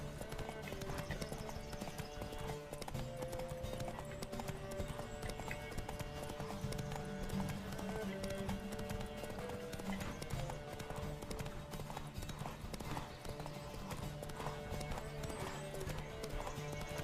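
Horse hooves clip-clop steadily at a gallop while riding in The Witcher 3: Wild Hunt, a dense, continuous rhythm layered over game music and ambience, with an occasional whinny.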